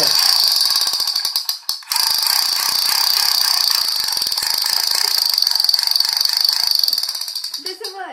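A toy MP5 gun fitted with a lighter flint grinds out sparks in a loud, continuous rasping squeal with rapid rattling texture, briefly cutting out once before resuming and tapering off near the end.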